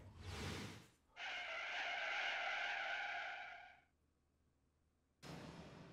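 Clown race vehicles in the Pac-Man World Re-Pac funhouse stage give one sustained skidding screech lasting several seconds, bracketed by short bursts of engine and game noise, with no talking.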